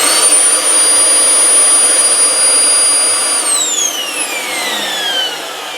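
A Dyson DC07 or DC04 vacuum cleaner runs without its filters, giving a loud steady whine with a high-pitched tone that drops in pitch toward the end, heard alone.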